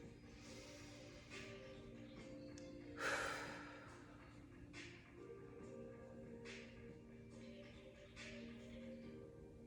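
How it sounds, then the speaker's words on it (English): Slow, soft breathing during a quiet yoga nidra session, one fuller inhale-exhale standing out early amid faint room hush and a few light rustles, close but very quiet, with no talking. "And breathe."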